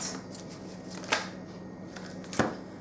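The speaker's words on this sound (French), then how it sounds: "On va essayer de tirer peut-être 3 cartes." Tarot cards being shuffled and drawn by hand, a soft riffling hiss with a couple of sharp card snaps, close and quiet.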